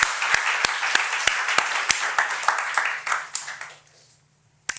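A church congregation claps together during a sermon, a dense run of hand claps with sharp louder strikes, tapering off and stopping near the end, a low hum lingering after and one last clap at the close.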